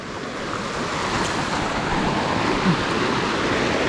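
A constant broadband rush of falling water from a natural waterfall in southern Laos, heard from nearby, steady and fairly loud with some wind over it.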